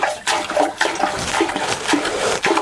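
Toilet water draining out of the bowl after the supply is shut off, a close gurgling rush broken into uneven surges and splashes, no talk.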